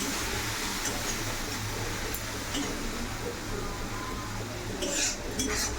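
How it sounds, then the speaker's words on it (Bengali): Ground cumin, turmeric, coriander and chili powder are stir-fried in oil in a pan for ghugni, giving a steady close sizzle with occasional spoon scrapes and clinks against the metal. "জিরে গুঁড়ো হলুদ গুঁড়ো ধনে গুঁড়ো লঙ্কার গুঁড়ো দিয়ে দিচ্ছি ভালো করে কষাবো"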